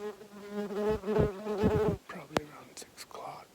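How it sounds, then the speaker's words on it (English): A wasp buzzes close by outdoors during an archery elk hunt, with a loud droning hum for about two seconds followed by quieter rustles and faint breathy voice sounds. "There's a wasp on my phone right now."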